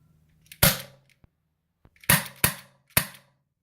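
Four sharp cracks from a Taurus PT 24/7 CO2 air pistol, one shot then three in quick succession, close and loud with light clicks between them.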